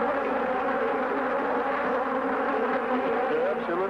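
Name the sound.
swarm of killer bees buzzing around a beekeeper's veil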